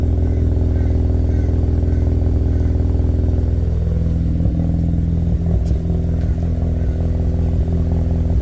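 A Mazda RX8 rotary engine idles and then comes off throttle with an uneven exhaust note, steady and loud and close by, with a few sharp pops and crackles on deceleration toward the end.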